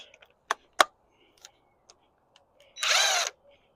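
An impact wrench zips the axle nut off a Lexus LS400 in a single short, loud buzzing burst near the end, preceded by a few scattered clicks and knocks.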